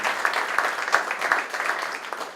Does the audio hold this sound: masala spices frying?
no